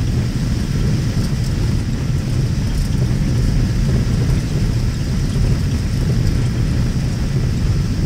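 Boeing 737-800 airliner landing, thrust reversers deployed on the runway: a loud, steady, broadband engine roar dominated by deep rumble, continuous throughout with no breaks.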